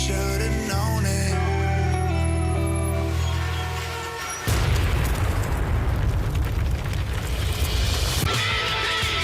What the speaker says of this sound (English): they'll drop a bomb from a drone, then an explosion